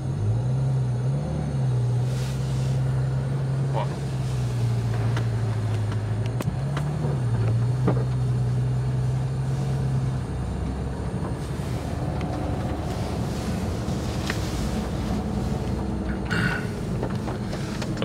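Porsche GT3 RS accelerating through a slalom course at a club competition, a steady in-car engine drone rising and dipping over the first ten seconds, then broader rumble and wind noise, with no talk.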